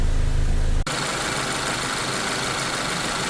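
A 2023 Subaru Forester engine idles with a steady low mechanical hum and vibration, continuous and close, after a brief abrupt shift in the sound near the start, while intake valve cleaner runs through it.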